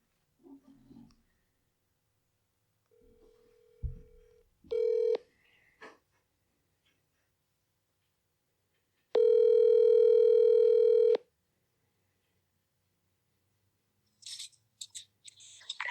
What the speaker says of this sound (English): Call Sarah M. Johnson.